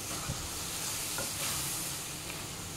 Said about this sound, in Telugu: ఒక 2 టమాటాలు వేసి బాగా కలపాలి